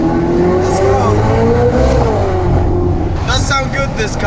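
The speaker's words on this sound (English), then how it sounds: "That sound good, this car, doesn't it?" A loud car engine revs and roars steadily up close, with crackling pops near the end and a voice speaking briefly over it.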